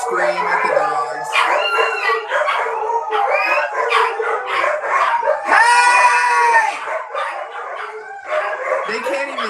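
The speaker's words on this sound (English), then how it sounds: "Normally I would hop up and scream at the dogs." Several dogs bark, howl and yip together in a loud, continuous chorus close by, with a person's voice shouting over the noise.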